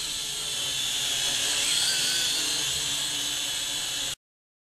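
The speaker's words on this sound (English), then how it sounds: "It's only a very light quadcopter." A very light FQ777 FQ40 quadcopter lifts off and hovers, its small propellers giving a steady, high-pitched whine that holds for about four seconds and then cuts off abruptly.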